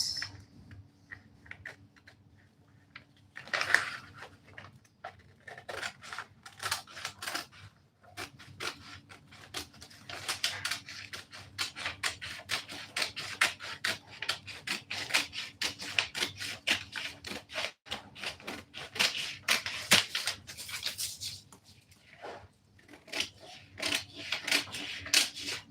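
Scissors snip through fabric for a two-piece outfit in a long run of quick, crisp, close cuts, pausing briefly now and then before resuming, with faint background hum.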